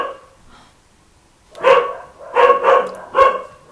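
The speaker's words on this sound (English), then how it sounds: "my dogs are just barking" Pet dogs bark indoors, starting with a faint yelp and then four loud, close barks in an uneven burst.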